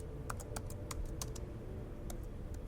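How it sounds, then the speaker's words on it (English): A stenographer taps rapidly on a small steno machine, a scatter of faint, quick clicking keystrokes in uneven bursts over a low background hum. "using a small machine called a steno that looks a bit like a typewriter but without letters"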